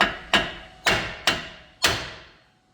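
A brass hammer strikes four times in steady succession on a 2015 Kia Sportage front wheel bearing assembly, each blow a sharp, loud metallic knock with a ringing decay, spaced about half a second apart.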